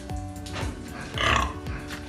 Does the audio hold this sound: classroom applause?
no